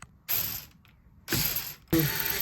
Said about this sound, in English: Now we just add our 3 screws, and it's all together.